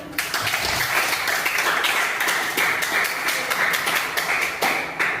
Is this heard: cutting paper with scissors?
no